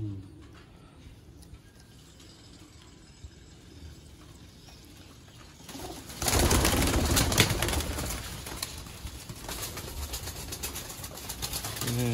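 Sialkoti pigeons, a pure Sialkoti 35 strain, coo and shuffle in a loft with faint wing flaps, quiet at first and then louder and busier, with background noise through the second half.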